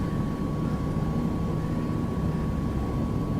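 A twin-engine aircraft in a flight simulator taxis on the ground, giving a steady low rumbling engine drone with a constant tone, even and unbroken.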